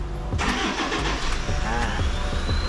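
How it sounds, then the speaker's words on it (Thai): A 2013 Toyota Fortuner Champ four-wheel-drive SUV cranks and fires up, then settles into a steady, close idle, with a person talking over the engine. "เดี๋ยวเฮามาสตาร์ทเบิ่งเครื่องน้ำกัน"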